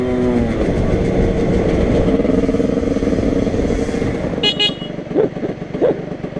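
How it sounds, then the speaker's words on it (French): A motorcycle engine roars loudly nearby and accelerates past with a sustained rising drone, then fades. A horn toots briefly near the end. "J'entends une moto."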